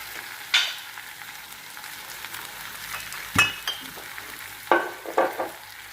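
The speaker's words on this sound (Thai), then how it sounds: "ผัดให้สุกก่อนนะคะ เดี๋ยวค่อยใส่เกลือ" Shrimp stir-fried with salt in a pan for a salt-roasted shrimp dish with fresh chili, giving a soft steady sizzle with a few sharp scraping and clinking strokes of a utensil against the pan, no talking.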